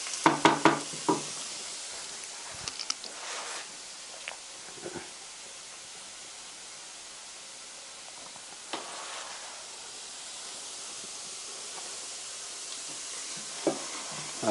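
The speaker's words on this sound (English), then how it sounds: "You can hear the sizzle. That's all the water content in the garlic." Minced garlic sizzles and hisses in a hot pan as its water cooks off, a steady fizzing bed with a few clinks and stirring scrapes near the start.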